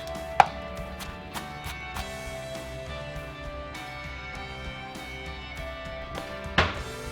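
Onions chopped with a knife on a board, a rapid run of light, close taps under a steady background hum, with a couple of louder knocks.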